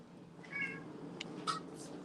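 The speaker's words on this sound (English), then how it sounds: "Fucking cat." A cat meows twice indoors, short nasal cries around half a second and a second and a half, fairly faint over a steady room hum with a small click between them.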